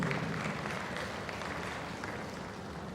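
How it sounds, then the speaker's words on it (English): Steady applause from a conference audience, a dense patter of clapping that holds even throughout without anyone speaking. "Please let's give him a round of applause again."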